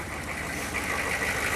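A 6.5 turbo diesel engine, dented and leaking some coolant, idles after sitting six years, giving a steady close rumble with a hissing, rattly texture and no talk over it.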